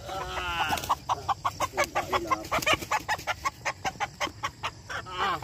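A Hebron gamefowl breeder rooster on a farm clucking in a quick, steady series of sharp close calls, with a few other birds audible in the background.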